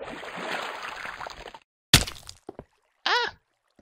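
Player taking fall damage in Minecraft SkyGrid on Xbox 360: a sharp thud followed by short grunting hurt sounds, after a stretch of rushing water noise.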